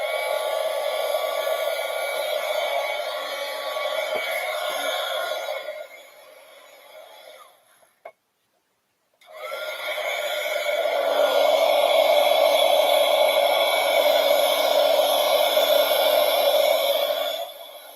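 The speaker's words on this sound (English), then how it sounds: "I'm going to hit this with the heat gun real fast, guys, just because I want to make sure that it's dry." A heat gun blows steadily to dry acrylic paint on a Valentine's Day door hanger, a loud whooshing fan roar that drops and cuts out briefly mid-clip before starting up again and running on.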